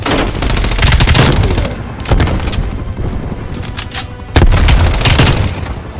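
Loud Call of Duty gameplay on PS5 in which bursts of rapid gunfire are split by sharp booming grenade blasts near 2 and 4.4 seconds, close and forceful with brief lulls between volleys.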